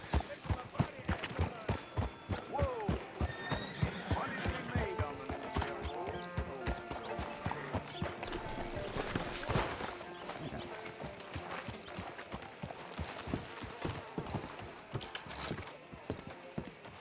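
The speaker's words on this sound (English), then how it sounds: "That's a fine horse you got there." Horse hooves clip-clop steadily in the Red Dead Redemption 2 video game, a rapid rhythmic stream of close, clear hoofbeats over background game music and ambience, with speech in places.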